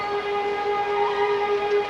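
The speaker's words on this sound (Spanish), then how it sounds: "para que al sonar la sirena, que es en este momento, todo el mundo guarde silencio." An air-raid siren in Israel sounds for a moment of silence, a loud, steady sustained wail holding an even pitch throughout with no voices.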